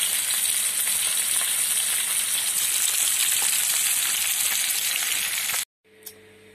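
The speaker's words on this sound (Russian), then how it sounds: "Карасик жарится" Crucian carp sizzles and crackles steadily in a hot frying pan, close up and loud, before the sound abruptly cuts to near silence.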